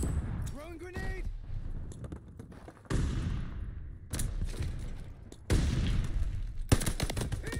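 Multiplayer gunfire in Call of Duty Vanguard crackles in loud bursts and single shots, separated by brief gaps, with heavy thuds and occasional ringing tones mixed in.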